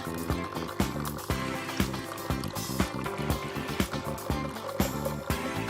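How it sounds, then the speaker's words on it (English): Nescafé Dolce Gusto Lumio coffee machine rinsing, with water running and trickling through it alongside a rhythmic pump-like pulsing, close and moderately quiet. "Lumio will start rinsing."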